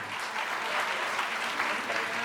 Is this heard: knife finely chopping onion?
no